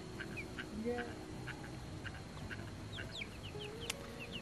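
Chickens and other poultry on a small farm clucking and calling in short repeated bursts, faint and scattered against steady background noise, with someone talking over them.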